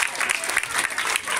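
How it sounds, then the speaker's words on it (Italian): Applause for families and coaches at a national UISP swimming championship in Riccione, a brief burst of dense, steady clapping from a crowd filling the moment. "Permettetemi a tutte voi ragazze di chiedervi un applauso per le vostre famiglie e per i vostri allenatori coach"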